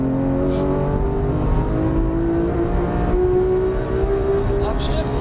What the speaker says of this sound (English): squeeze that throttle again